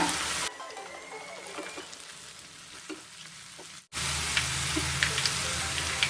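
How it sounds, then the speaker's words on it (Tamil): Tomato and crushed garlic sautéing in a pan for Vanjiram dry fish thokku, a steady close sizzle broken by a brief dip and then a louder, fuller hiss of frying with light stirring scrapes. "ஒரு 2 நிமிஷம் இதை வந்து நல்லா வதக்கிக்கோங்க"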